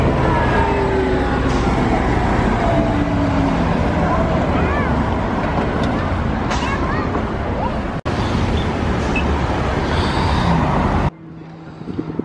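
Ride inside a Los Angeles city bus, a steady loud engine rumble and road roar filling the cabin with rattles and faint squeals, cutting to a quieter space near the end.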